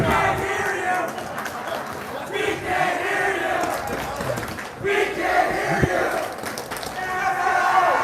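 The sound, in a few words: Woodstock home crowd cheering at basketball game overtime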